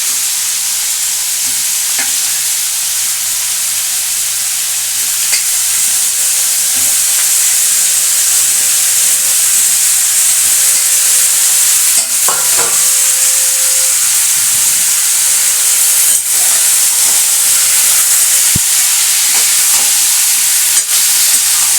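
Young jackfruit frying in a pan with tomatoes for a Bengali prawn dish, a steady loud sizzle and hiss throughout, with occasional stirring scrapes and no talking.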